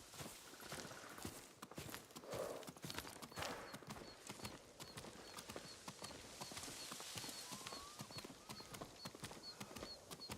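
Horse hooves clip-clop steadily at a walking pace in the game Ghost of Tsushima, a continuous rhythmic clatter over ambient outdoor sound, with no speech.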